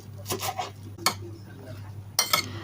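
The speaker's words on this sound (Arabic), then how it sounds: "هنخلط بقى المكونات دي مع بعض علشان كل طعم يتمزج مع التاني" Kofta ingredients of onion, tomato and parsley being mixed in a bowl, three bursts of scraping and clinking utensil strokes over a low hum, no speech.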